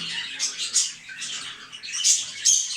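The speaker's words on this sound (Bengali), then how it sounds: "এখানে হচ্ছে কোকাটেল, এগুলো কোকাটেল।" Pet cockatiels and finches in an indoor cage chirp and squawk in a dense, continuous chatter of high calls, close and fairly loud.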